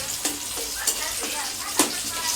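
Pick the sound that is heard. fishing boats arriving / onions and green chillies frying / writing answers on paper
onions and green chillies frying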